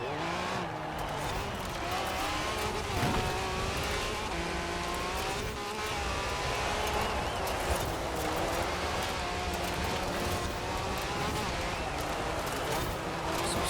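A Can-Am Maverick off-road buggy racing in Forza Horizon 4, its engine droning steadily and shifting pitch through corners with tire noise, loud and continuous under a voice talking throughout.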